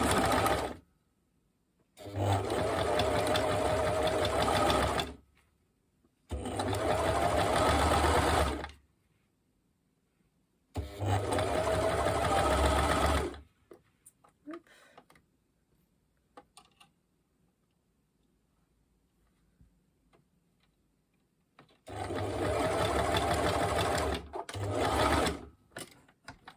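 A sewing machine runs a zigzag stitch that attaches elastic to fabric. It whirs in four loud bursts of a few seconds each, separated by quiet pauses with faint handling sounds.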